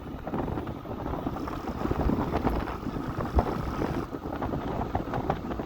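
Steady wind rushes over the microphone while riding a Mondial E-Mon Rigby electric scooter through a village, a constant broadband roar with gust swells and no talking.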